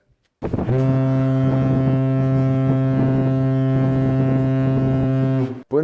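Deep ship foghorn sounding through thick fog on the Bristol Channel, one long steady blast of about five seconds, loud and rich in harmonics, with light wind noise around it.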